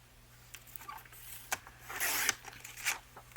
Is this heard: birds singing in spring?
no